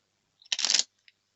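A deck of tarot cards is shuffled in one quick riffle, a crisp fluttering burst lasting about a third of a second, followed by a single faint tap in an otherwise quiet room.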